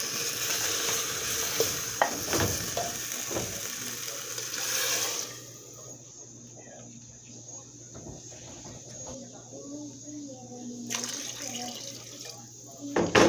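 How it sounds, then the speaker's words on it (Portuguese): A pot of cooked food over a low flame is stirred after a drop of water goes in, giving soft scraping and light sizzling, with running tap water and clatter early on, then quieter bubbling. "E dar uma mexidinha. E vou deixar ele secar aqui no fogo baixo."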